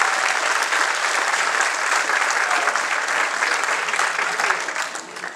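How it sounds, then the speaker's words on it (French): A crowd gives a long, sustained round of applause, a thick wash of clapping that holds steady and loud before easing off at the very end, with a faint voice or two underneath. "Voilà, vous pouvez l'applaudir."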